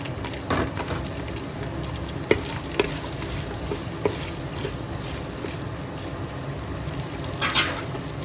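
Thin-sliced onion and green chilli frying in a pot for chicken matka dum biryani, a steady close sizzle with intermittent stirring clatter and scraping, no talk.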